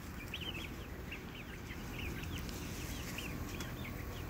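Several chickens cheep and cluck softly in an aviary pen over a low background hum, a scattered run of short calls at moderate distance.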